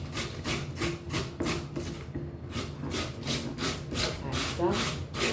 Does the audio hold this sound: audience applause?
no